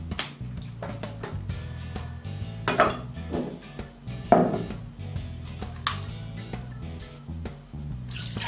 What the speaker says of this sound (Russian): Теперь мы начинаем вскрывать кокос, ударяя по нему ножом под углом